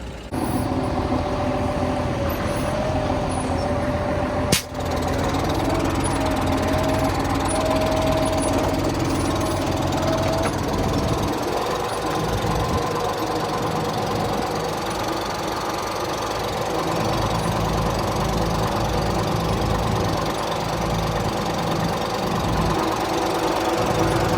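A John Deere 6620 tractor drives with its cab suspension working, a loud steady diesel drone and rattling, knocking mechanical clatter held close throughout, with one sharp bang early on.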